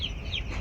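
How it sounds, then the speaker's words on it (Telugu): Young farm chickens cluck briefly, close and moderately loud, over a low background hum. "కోళ్ళు మొన్నటి మీద కొంచెం పెరిగినాయి,"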